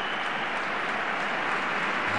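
A football crowd at a Real Zaragoza versus Ponferradina match in the 2015-2016 season applauds a substituted player, a steady, loud wash of clapping filling the whole stretch.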